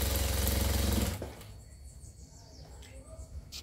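A sewing machine stitches fabric strips of micro-percale and percale scraps for a quilt, running in a loud close continuous whir for about a second before stopping, followed by faint light clicks and rustling.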